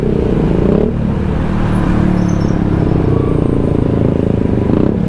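Steady road traffic with trucks rumbles close by in Alaminos, Laguna, a dense low drone of passing vehicles with heavier engines mixed in, continuous without pauses.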